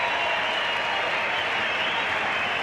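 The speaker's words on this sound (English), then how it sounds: "and the crowd loves it" A large crowd at a 1995 Australian rules football match between NTFL and Fremantle applauds and cheers after a goal, a dense, steady roar of clapping that fills the space without a break.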